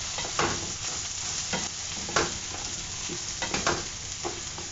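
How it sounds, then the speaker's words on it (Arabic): Short-grain Egyptian rice frying in a pan with vermicelli, a steady close sizzle broken by repeated scraping stirs, with no talking. "هي الرز المصري القصير رح ضيفه وقليه وحركه مع الشعيريات"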